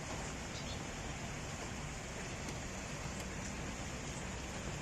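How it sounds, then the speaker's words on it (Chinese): Steady rain falls outside a small rented room in an industrial area, facing worker dormitories and factories. A dense, even hiss carries on unbroken throughout, with no clear voices. "今天下雨"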